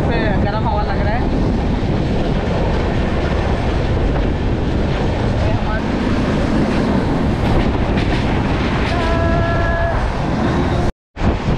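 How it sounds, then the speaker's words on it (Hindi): A train approaches on an Indian railway line in intense heat, a continuous loud rumble mixed with wind buffeting, and brief tonal horn-like notes near the end. "तो देखो सामने से ट्रेन आ रहा"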